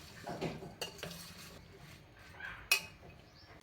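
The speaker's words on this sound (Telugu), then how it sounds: "ఇప్పుడు కలబెట్టుకుందాం" Mango pickle being mixed with ground fenugreek and mustard seed in a bowl, quiet intermittent scraping and clinking of a spoon against the vessel, close and soft.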